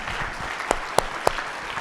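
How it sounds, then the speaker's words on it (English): A panel audience at a regenerative agriculture event gives a round of applause. Thin, steady clapping runs throughout, with three sharper, louder claps standing out near the middle. "Let's give a round of applause to the whole panel"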